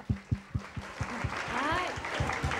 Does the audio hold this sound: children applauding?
yes